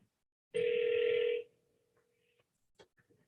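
A telephone ring tone sounds once while a call is being placed during a select board meeting, a loud steady electronic tone lasting about a second, then a faint lingering hum and a few small clicks.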